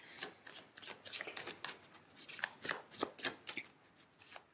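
Tarot cards are shuffled in quick riffling bursts, a soft papery flutter repeating in an irregular rhythm, close and quiet with no talking.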